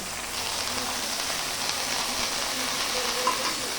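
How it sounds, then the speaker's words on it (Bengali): Leafy greens fry in a little oil in a pan, a steady, even sizzle and crackle that stays close and continuous throughout with no voices over it. "শাকটা ভাজি করতেছি"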